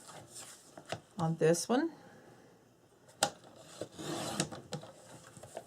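Chipboard is cut into 2 1/2-inch strips, giving short scraping and rasping strokes in bursts, close and fairly quiet, with a person speaking briefly between them.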